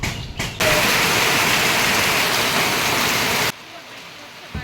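Heavy rain pours down in a dense, loud, steady roar for about three seconds, then cuts off abruptly, leaving quieter ambient noise.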